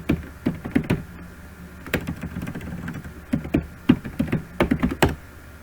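A command is typed on a computer keyboard in uneven clusters of close, crisp key clicks with short pauses between runs; no voices.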